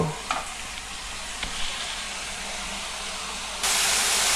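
Green chillies and punka greens are stir-fried in a pan, giving a close, steady hiss with a few light stirring knocks before the sizzle surges louder near the end.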